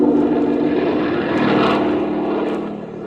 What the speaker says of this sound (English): the plane turned on its side and we cut sharply to our right and out over the bay